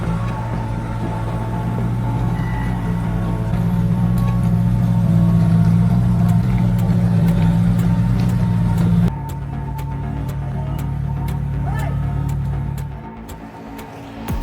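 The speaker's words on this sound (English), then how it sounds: "The thick layer of mud swallowed the timber truck completely, with the wheels completely disappeared." A timber truck engine labours in thick mud with a loud, low droning roar that shifts pitch midway, then fades near the end; no talk.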